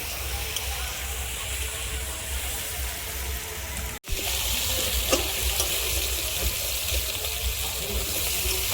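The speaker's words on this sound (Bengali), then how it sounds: "আলুগুলো কিন্তু আমার ভালোভাবে ভাজা হয়ে গেছে।" Potatoes frying in a pan in a home kitchen give off a steady, even hiss, broken by one brief gap near the middle before the sizzle picks up again.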